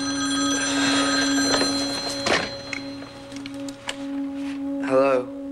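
A telephone bell rings with sustained metallic tones behind room noise and scattered thumps. A shorter warbling ring bursts near the end.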